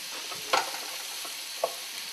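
Ingredients for kadınbudu meatballs cooking in a pan with a steady, soft sizzle, broken by a couple of brief spoon scrapes and knocks as they are stirred.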